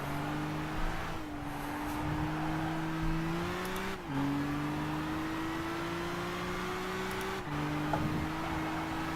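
Race car engine in the Gran Turismo video game, a steady high whine that dips at each gear shift and climbs again, loud and continuous with no talk.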